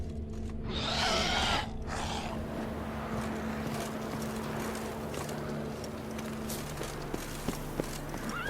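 Horse hooves clip-clop in a fantasy video game, following a brief rushing whoosh, set against a steady low hum with a few sharp clicks near the end.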